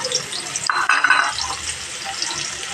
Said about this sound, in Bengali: আলু ভেজে যে তেলটা ছিল সেই তেলে এখানে কুচানো পেঁয়াজগুলো দিয়ে দিলাম